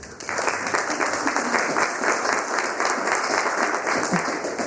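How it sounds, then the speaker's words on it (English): Applause from an audience at a school district board of trustees meeting, a steady round of clapping lasting several seconds, fairly close and full with no talking over it. "let's give her a round of applause."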